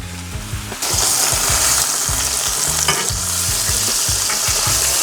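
Butter hits a hot pan holding a chuck steak and bursts into a loud, steady sizzle, with rhythmic scraping as it is stirred and spread around, close and continuous without speech.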